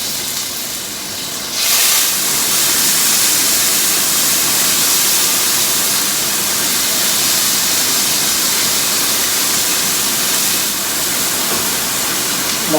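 Tofu sizzling in a hot pan for teriyaki tofu, a steady loud hiss that swells suddenly and then holds evenly, with nobody talking.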